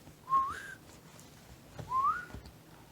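A person whistles two short rising notes a little over a second apart, soft and fairly close in a quiet room with faint background noise.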